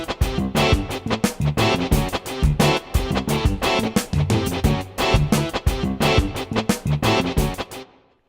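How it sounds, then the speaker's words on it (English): A two-bar rhythmic music loop from the middle of an A section, built in Reason, plays loud and steady with punchy repeating beats and dense layered instruments, cutting off cleanly at the end. "we've got a loop that would sound something like this"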